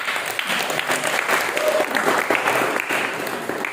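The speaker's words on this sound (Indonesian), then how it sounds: "Tepuk tangan dulu." Classroom audience applause during a teacher training session, a loud, close burst of many hands clapping that continues steadily throughout with faint voices mixed in.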